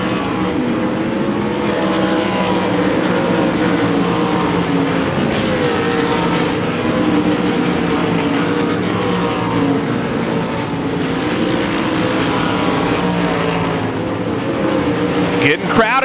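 Sprint cars racing in a feature event at Devil's Bowl Speedway, several engines droning and revving together in a loud continuous pack, with an announcer talking over the noise.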